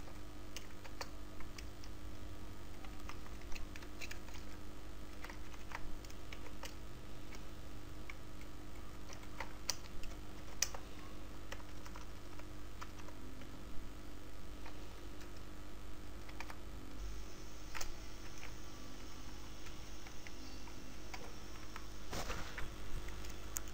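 Typing code on a computer keyboard: soft, quick, uneven key taps spread across a steady low electrical hum, fairly faint and close, with no voices.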